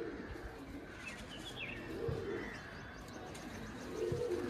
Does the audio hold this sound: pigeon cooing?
yes